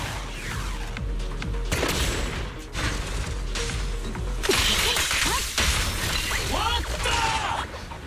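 Gunfire and attack effects in the Zenless Zone Zero video game, a busy stream of shots, whooshes and crashing hits, loud and continuous with brief dips, with a person talking over it.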